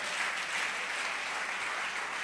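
A church congregation claps together in a steady, even wash of applause, moderately distant, with no voices standing out over it.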